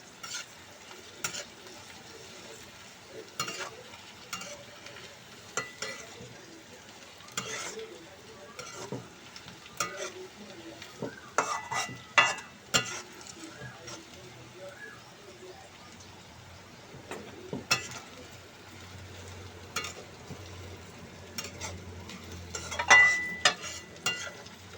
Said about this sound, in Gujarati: હવે આપણે આને હલાવ્યા જ રાખવાનું છે.